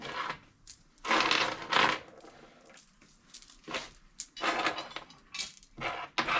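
Metal bolts go into custom red beadlock rings on Honda Talon 1000R rims, heard as separate clinking, rattling bursts of metal-on-metal handling with short quiet gaps between them, close up.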